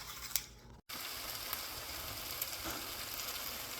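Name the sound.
potatoes and onions frying in a pan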